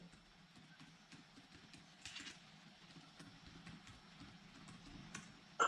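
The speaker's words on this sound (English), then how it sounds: "I am typing it in the chat box also." Typing on a computer keyboard while entering an email address, a steady run of light, quick clicks at low level with a few louder bursts, no voice.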